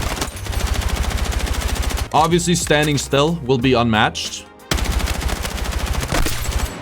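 Rapid automatic gunfire while strafing in Battlefield 6, loud steady bursts that stop while someone talks and then resume just as fast.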